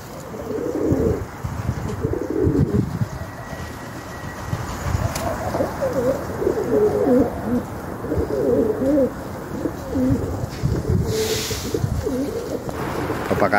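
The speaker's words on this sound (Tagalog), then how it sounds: "Papakain tayo ng kalapati." Flock of plump pigeons, some of them white, cooing steadily while being fed, soft overlapping coos close by with occasional chirps and wing flutters throughout.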